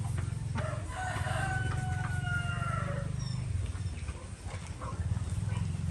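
Roosters crow repeatedly over a steady outdoor background in a free-range chicken ranging area, with occasional clucking from chickens nearby; no one speaks.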